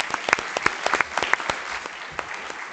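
An audience at a Democratic Massachusetts governor and lieutenant governor candidate forum claps in a steady, moderate round of applause. Individual claps are audible within it, and it thins out toward the end.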